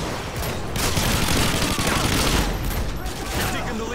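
A steady roar of MG4 machine gun fire with explosive rounds in Call of Duty Modern Warfare 2. The shots and blasts blend into one dense, loud, continuous barrage with no pauses, and a voice is faintly mixed in.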